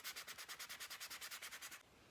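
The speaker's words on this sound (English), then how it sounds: "we're just going to keep sanding on this" Sandpaper rubbed by hand over a painted wooden craft piece, stripping orange paint, in a steady run of about fifteen quick, even back-and-forth strokes, close and fairly quiet with no talking.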